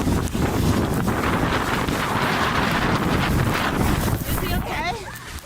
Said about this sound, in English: suddenly a gust of wind lifted him off the ground